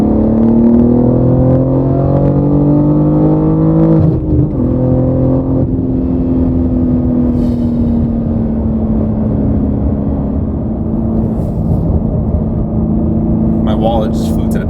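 Loud, steady engine drone inside a BMW G80 M3 with AWE SwitchPath exhaust and catted downpipes in 3rd gear at 3,000 RPM, a deep rumbling exhaust holding a sustained pitch with a brief dip partway, harmonics rising slightly as it pulls.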